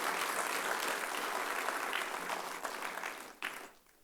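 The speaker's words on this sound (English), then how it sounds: "I was about to ask applause. You applauded." Audience at a professional accountants' award event applauding, a dense steady roll of clapping that thins and tails off near the end with a few last claps.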